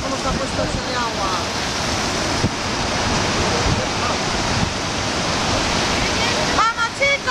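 A swollen river current rushes loudly and continuously near a temporary bridge on a mountain bike ride, with wind buffeting the microphone and brief voices near the end.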